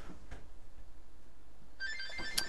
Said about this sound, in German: Und das Telefon klingelt das auch noch.